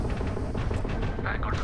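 Mercenaries open fire in the space game Starfield, a dense, continuous burst of gunshots and impacts filling the whole moment at steady loudness, with speech mixed underneath.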